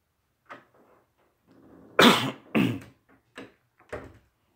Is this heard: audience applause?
no